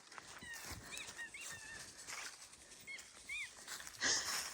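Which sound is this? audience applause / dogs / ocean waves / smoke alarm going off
dogs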